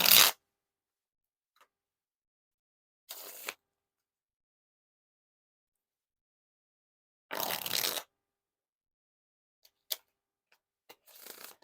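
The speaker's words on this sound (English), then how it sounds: "Now time for the riffle shuffle or bridge shuffle." Teenage Mutant Ninja Turtle playing cards being riffle shuffled, in several short bursts of rapid flicking and crisp patters separated by silence, close and clear with a few isolated taps.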